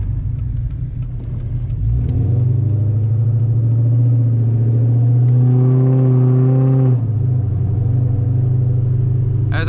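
A Dodge Challenger SRT8, driven after sitting for a week, gives a deep close rumble that swells into a strong rising rev, holds a loud steady drone, then drops back to a low burble.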